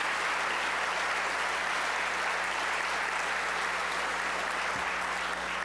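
Sustained applause from an audience at an annual Martin Luther King Jr. celebration held by the Seattle Colleges, a dense, steady wash of many hands clapping evenly throughout without any talking.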